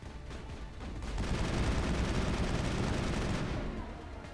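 Sniper rifles and other weapons fire in a Mass Effect 1 battle on the Moon, a dense, loud barrage of rapid shots that swells after the first second and holds steady, with no one talking.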